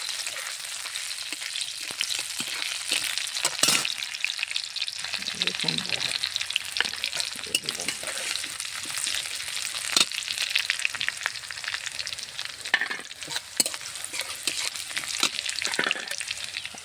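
Chopped onion frying in a pan until browned, giving a steady, close, crackling sizzle with scattered stirring clicks throughout and no talking.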